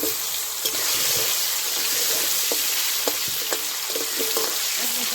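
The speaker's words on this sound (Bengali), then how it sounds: "আলুগুলো ভেজে নিচ্ছি" Potatoes frying in oil in a kadai, a steady loud sizzle and crackle with occasional sharp pops and scraping stirs, close up with no talking.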